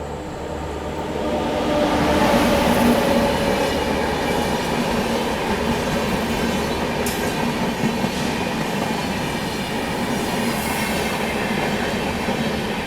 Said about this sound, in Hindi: अभी देखो सामने से ही आ रही है लखनऊ नई दिल्ली स्वर्ण शताब्दी एक्सप्रेस।